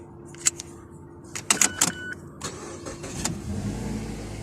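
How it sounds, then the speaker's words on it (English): A 2011 Mazda car, its keys all lost, started with a newly made replacement key: a few sharp clicks and rattles come first, then the engine catches and settles into a steady idle close by, with no talking. "Car runs."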